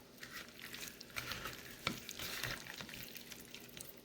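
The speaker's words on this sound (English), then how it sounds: "Mix it all up." Beef jerky strips are stirred with a scoop of sour cream, giving soft, wet squelching and sticky mixing sounds that are faint and close, with no talking.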